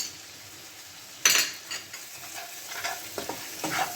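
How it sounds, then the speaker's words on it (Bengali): Grated ginger is stirred into paneer butter masala in a pan with a sharp metal clink, then repeated spoon scrapes and taps over a quiet, steady sizzle. "সবগুলোকে ভালো করে নেড়ে নেব 1 থেকে 2 মিনিট"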